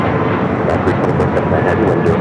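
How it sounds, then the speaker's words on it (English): An American Airlines Airbus A321neo jet takes off, a loud, steady broadband engine roar filling the whole stretch, with a voice talking faintly underneath. "2112, taking off to Atlanta on the A321neo."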